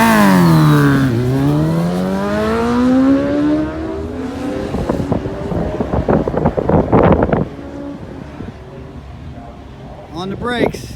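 Suzuki Hayabusa drag bike run at wide open throttle down a drag strip: a loud engine whine climbing through gears, then a rushing burst of wind and roar as it passes, fading under a commentator's voice.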